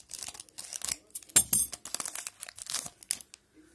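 Retail packs of 2011-12 Pinnacle hockey cards are torn open, with bursts of crinkling foil and ripping wrapper up close, uneven and scratchy, and no talking.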